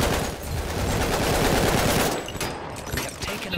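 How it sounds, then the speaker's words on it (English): A machine gun fires continuously in Battlefield 1, a rapid loud close burst that thins out toward the end. "Just keep hosing them down."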